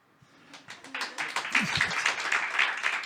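An audience at a Ukrainian stand-up comedy show breaks into applause, scattered claps building from near-silence into steady, moderately loud clapping with a faint murmur underneath.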